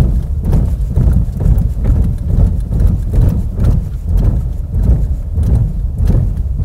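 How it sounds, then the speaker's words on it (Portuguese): Car tires on a comfortable, soft-suspension car with high-profile tires roll over raised road studs and a speed bump, giving a steady run of rhythmic, evenly spaced heavy thumps over road rumble, with no talking. "vamos lá para o nosso teste de tachão e lombada"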